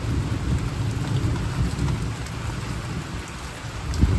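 Steady rain pours down on a surface with low, rumbling thunder underneath, continuous and fairly close, with no voices.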